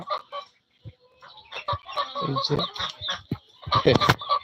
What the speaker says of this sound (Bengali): দেখেন হাঁস মুরগিগুলো দেখার মতন পরিবেশ কতগুলো দেশি মুরগি